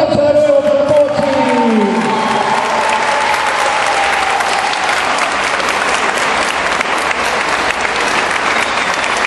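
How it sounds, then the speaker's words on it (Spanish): A live audience at a Saturday evening cultural event breaks into loud, sustained applause with a few cheers, starting as a voice fades out and the dense clapping continuing steadily to the end. "¡Fuerte el aplauso de nuevo por Pochi!"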